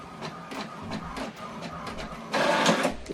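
HP Deskjet 2700 inkjet printer running a page, steady mechanical whir with repeated carriage passes and a louder, busier feed burst near the end, close and alone.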